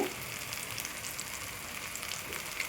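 Tomatoes cook under a lid in a pan, giving a soft, steady sizzle and faint crackle that stays even throughout, fairly quiet and alone without talk.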